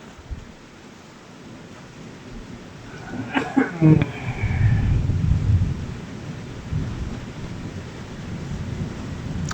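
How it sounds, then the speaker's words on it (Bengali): Heavy rain pours down during a storm, a broad steady roar that swells midway, with a low rumble and a voice briefly heard over it. "এবারে দেখুন কেমন জোরে বৃষ্টি হচ্ছে"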